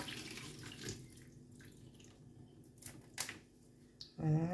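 Tap water runs over fresh carrot tops in a kitchen sink, a soft, uneven splashing with small drips and clatters, fairly quiet, ending in a brief louder tonal burst.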